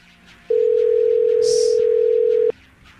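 A steady telephone dial tone sounds clearly for about two seconds while calling a voicemail, beginning and ending abruptly, with faint room noise before and after and no talking.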